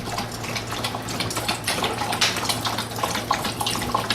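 Dogs drinking after a walk: wet, rapid lapping and splashing of water close by, an irregular stream of slurps and drips with no talking.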